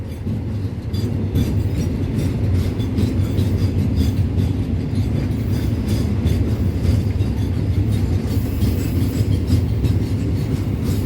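Crude oil freight train rolling along steel track, wheels clacking in a steady repeating rhythm over rail joints, loud and close with continuous rumble throughout.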